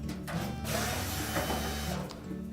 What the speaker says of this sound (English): Just remove all of the screws